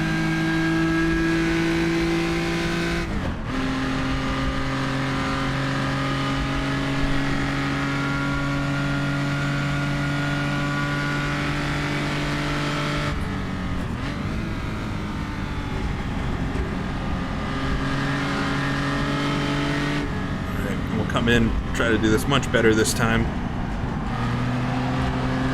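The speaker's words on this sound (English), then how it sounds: "We're going to get on the throttle, and you can see the car kind of pitch into the slide." A historic race car's engine drones steadily from onboard at Spa Francorchamps during a Historic Road Racing Championship round, its pitch shifting with gear changes and bursts of revving, while the driver talks over it.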